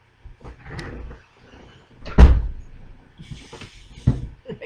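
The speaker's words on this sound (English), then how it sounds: "My door does not want to stay closed today." A door is opened or shut indoors with a sharp knock and rattle near the middle and a softer bump toward the end, between quiet room noise and small handling sounds.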